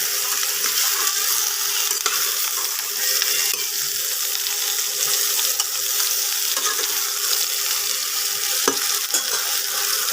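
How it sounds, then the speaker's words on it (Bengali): Mango pickle pieces fry in a pan, giving a continuous loud hiss and sizzle with occasional stirring scrapes and no talking. "একটু ভাজা ভাজা হোক বন্ধুরা।"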